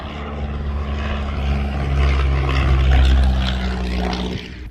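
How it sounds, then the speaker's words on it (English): A New Zealand Railways TR class diesel shunter locomotive runs nearby with a steady low engine drone and throb, holding loud and even throughout with no talk. "This is a little NZR workhorse. A TR class diesel shunter."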